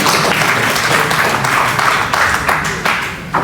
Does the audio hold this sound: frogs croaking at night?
no